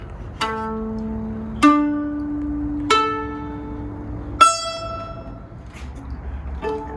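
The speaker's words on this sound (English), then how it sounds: "In this tuning, this is what the playing strings sound like." Four separate bowed chords on the open playing strings of a Hardanger fiddle ring out one after another, each with a sharp attack and a long, resonant sustain full of bright overtones.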